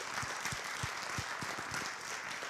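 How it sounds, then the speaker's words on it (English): A church congregation at an all-church meeting claps for its leaders: steady, dense applause of many hands, fairly soft and even throughout, with no voices over it. "So I think we owe an applause to all of our leaders as well."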